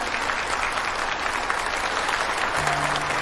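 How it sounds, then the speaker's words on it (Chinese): An audience at a corporate phone launch event gives sustained applause, a dense, steady clapping that fills the whole stretch with a faint low hum entering near the end. "大家掌声欢迎"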